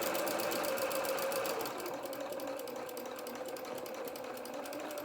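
A sewing machine stitches across the edge of a fabric seam, a steady fast mechanical whirring and ticking of the needle that runs continuously and close.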